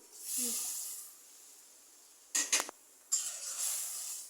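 Prawns sautéing in a pan make a soft, intermittent sizzle that rises and fades, broken by a few short clinks of a utensil against the pan, fairly quiet and close.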